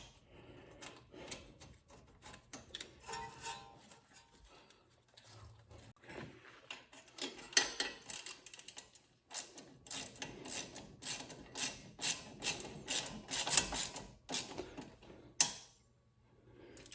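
Bolt threaded by hand into a tapped 8 mm hole to secure the brake line on a Mustang strut during a shock replacement, heard as soft irregular metallic rasping, ticking and small clicks, close and fairly quiet, with no talking.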